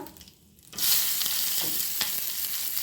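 Asafoetida and curry leaves drop into hot oil for sooji upma, a quiet pause breaking suddenly into a bright, loud sizzle that holds steady with a few stirring scrapes.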